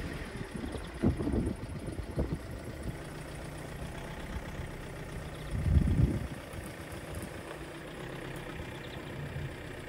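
A vehicle engine idles low and steady while hauling a backhoe attachment trailer, a continuous rumble with two brief heavier surges, one early and a louder one around the middle, heard alone.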